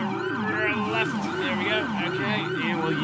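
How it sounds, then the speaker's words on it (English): A police siren in GTA 5 wails continuously in a repeating rising-and-falling pattern, loud and close, over a steady engine hum of a Crown Victoria patrol car. "turn the sirens off."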